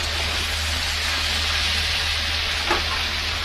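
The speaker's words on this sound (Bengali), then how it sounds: "সবজিটাকে এপিট ওপিট করে নাড়িয়ে দেখছি কতটা কি সেদ্ধ হয়েছে।" Boiled potato, eggplant and vegetable stems being stirred and turned in a hot pan, a continuous loud sizzle with a soft scrape of the spatula near the end, no voices.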